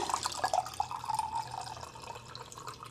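Tea pours into a glass for homemade iced tea as a steady, trickling liquid stream with a bright splashing edge, close by and fairly quiet for about three seconds.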